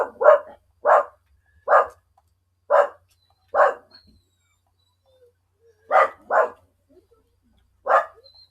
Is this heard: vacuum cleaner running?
no